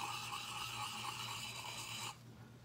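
A gouge chisel being sharpened, steady rasping strokes filing continuously for about two seconds before stopping, close and fairly loud.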